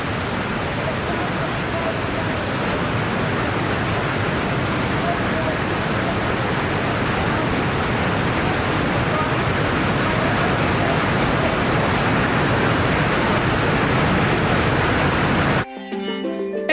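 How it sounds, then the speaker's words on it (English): Nam Muang waterfall in Thailand gives a steady, dense roaring rush of falling water, unbroken and loud, cut off at the very end by a short musical tone. "the thunderous spectacle of the Nam Muang waterfall"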